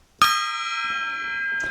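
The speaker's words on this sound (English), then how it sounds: "that's my new sales gong" A newly bought sales gong in a car dealer's office is struck once, giving a sharp metallic hit that rings on as a steady bright tone, fading slightly over nearly two seconds with faint background noise.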